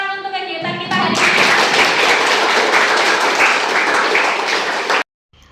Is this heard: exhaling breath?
no